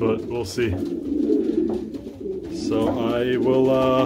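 Birds from breeding pairs, likely pigeons or doves, coo and call softly in an aviary while someone talks over them for most of the stretch.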